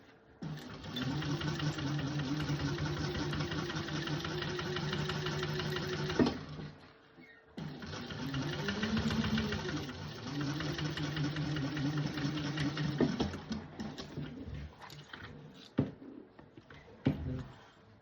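A sewing machine top stitching through the main fabric of a candy bag, running in two long steady whirring bursts separated by a brief pause, then a few scattered clicks and handling sounds.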